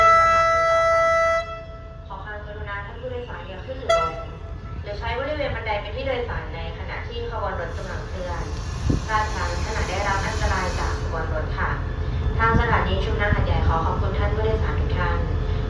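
A train departing Hat Yai Junction station rumbles and hisses steadily beneath a woman's announcement in Thai over a loudspeaker, with a sustained high hiss partway through.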